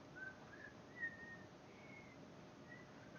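A farmer's soft, distant whistling of a simple melody drifts along in sustained notes over quiet ambient noise in the video game Farming Simulator 19.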